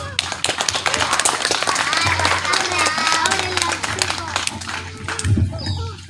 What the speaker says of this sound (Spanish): vamos a recibir con los aplausos merecidos al profesor Eucario Mateo Alejo